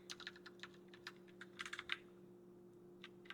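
Quiet computer keyboard typing while coding a text comparison tool: irregular bursts of soft key clicks, a quick flurry in the middle, with a steady low electrical hum underneath and no voice.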